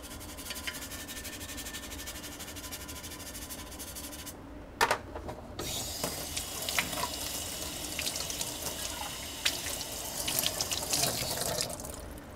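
Water from a sink faucet pours steadily while a laser-engraved mug is rinsed, a close, continuous hiss and splash with sharper splatter as the flow hits the mug, no voices.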